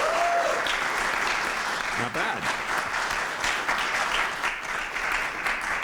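A college audience claps steadily throughout, a dense, even wash of many hands at an elevator pitch competition, with a brief spoken remark partway through.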